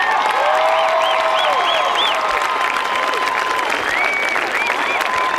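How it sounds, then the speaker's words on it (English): A grandstand crowd at a Busch North Series stock car race at Thunder Road applauds the race winner, a steady wash of loud clapping with a few whistles and cheers, lasting throughout. "could we have a great round of applause"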